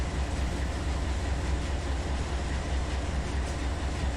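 BNSF freight train in the Run 8 Train Simulator game drifting downhill across the desert: a steady, dense rumble of wheels and cars rolling at speed, constant and loud throughout, with no voices.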